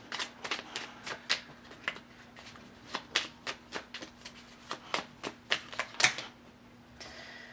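Tarot cards shuffled by hand before a draw, a rapid series of crisp, close riffling flicks and snaps in uneven bursts, with a steady faint hum underneath and a softer slide of cards at the end.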